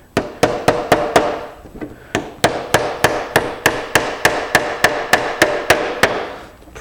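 A long nail hammered into a wooden beehive telescoping lid, with about twenty sharp, loud, evenly spaced blows in two runs separated by a short pause, each ringing briefly.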